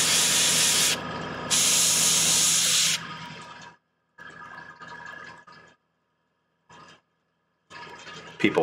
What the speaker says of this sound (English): just using an airbrush helps speed it up